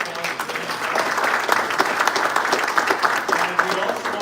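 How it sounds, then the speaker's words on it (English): A round of applause at an ethics symposium as a credit union sponsor is thanked: dense clapping from a seated audience, steady and fairly loud, with a voice faintly present underneath. "Round of applause."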